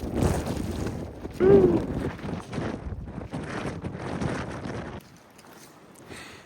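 Strong gusty wind at a trackside spot during a high wind warning with gusts up to 55 mph, buffeting the microphone in loud rumbling bursts that ease off near the end, with a brief exclamation from a voice.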